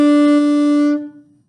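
A saxophone plays a single held B, fingered with just the first finger, a bright steady tone for about a second before cutting off, close and loud.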